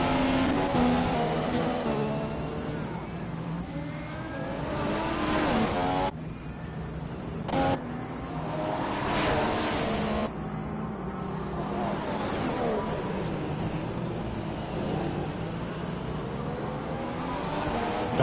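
Formula One race cars in the video game F1 2015 at the Canadian Grand Prix, engines screaming and revving loud and close, with pitch sweeping up and down through gear changes and a brief cut in the middle.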